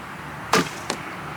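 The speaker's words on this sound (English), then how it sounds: "We're gonna shoot a little bit to the right in the middle with this bow" An arrow loosed from a Centaur Supercurve recurve bow: a sharp string release followed by a second short thwack about 0.4 seconds later, close and fairly loud against a quiet background.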